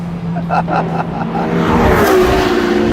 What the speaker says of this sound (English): you can hear the sound of the race mode when you put it